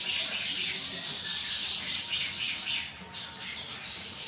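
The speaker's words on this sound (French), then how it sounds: "Mais ils sont déjà en forme dès le matin, les petits oiseaux." Small birds chirping early in the morning somewhere in Indonesia, a busy chorus of high tweets and squawks layered over each other, fairly loud and continuous throughout.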